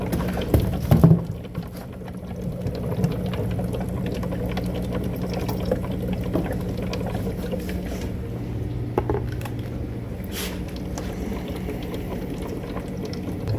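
Water runs steadily into a container being filled for a phytoplankton culture for a reef tank, a continuous low gurgling pour after an opening clunk, moderately quiet and close.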